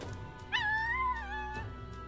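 A dog whimpers in the fantasy role-playing game Metaphor: ReFantazio, one long wavering whine that rises and falls over a low game backdrop, then a softer second cry near the end.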